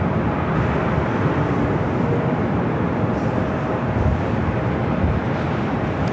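An airliner arrives at LAX airport as a steady, broad jet roar that swells slightly and stays loud throughout, heard outdoors with no talk.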